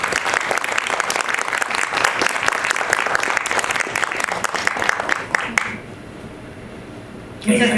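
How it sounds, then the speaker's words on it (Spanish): Lively applause for a guest at a book presentation, a crowd clapping steadily before it fades out to near quiet, then a brief burst of sound at the very end. "un aplauso para él, por favor"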